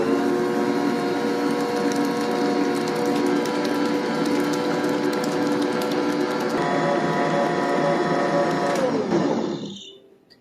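An electric mixer beating coconut cake batter with egg whites, a steady loud whirring motor hum with clattering of beaters in the bowl, running continuously before cutting off near the end.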